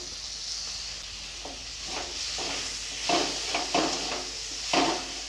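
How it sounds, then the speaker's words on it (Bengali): Chopped tomato and turmeric powder sizzle softly in a pan, with a steady low fry broken by a series of scraping, knocking stirring strokes that grow louder and quicker toward the end. "হলুদ গুঁড়ো দিয়ে দিচ্ছি এবারে দিয়ে দিচ্ছি টমেটো কুচি"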